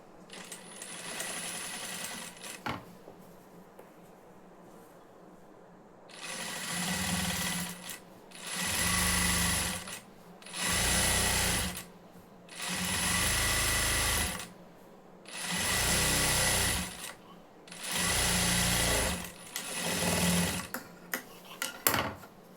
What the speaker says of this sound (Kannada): ಲೈನಿಂಗ್ ಕಡೆಗೆ ಇದ್ದು ಈ ಎಡ್ಜಲ್ಲಿ ಲೈನಿಂಗ್ ಮೇಲೆ ಒಂದು ಸ್ಟಿಚ್ ಹಾಕಬೇಕು